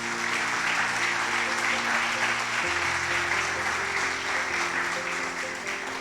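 A church congregation applauds loudly and continuously, a dense wash of clapping that fills the room from start to finish, with a sustained musical tone beneath it.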